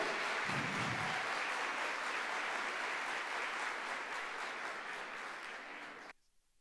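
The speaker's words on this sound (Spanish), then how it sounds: "Diana, un aplauso para Diana, pero..." Audience applause at a tax law update session, as a prize winner's name is called; dense, loud clapping fills the room steadily for about six seconds, then cuts off abruptly.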